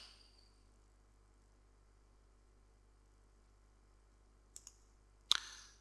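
A couple of sharp computer mouse clicks land near the end after a long near-silent stretch, quiet and close, with a faint earlier click pair just before.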